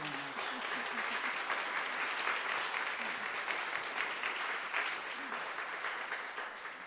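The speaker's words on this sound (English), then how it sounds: "So I think that's worth another round of applause." Sustained applause from an audience at a diversity dialogue event on race, dense steady clapping throughout with a few faint voices underneath.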